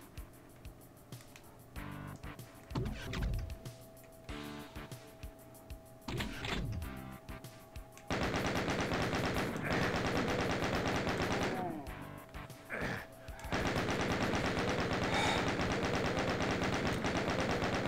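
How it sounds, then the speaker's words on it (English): Chaingunner enemies fire in Doom 2 on Map 14, Inmost Dens, with rapid machine-gun bursts rattling repeatedly alongside other game effects, growing louder and more continuous in the second half. "These chain gunners are a real pain, too."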